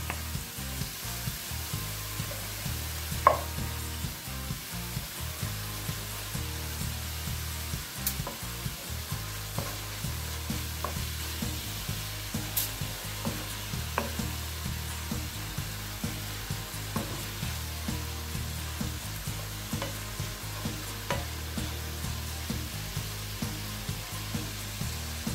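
Bacon fries in a pan with mushrooms and eggplant, a steady even sizzle with a faint rhythmic hum and scattered small pops and ticks, close and without speech.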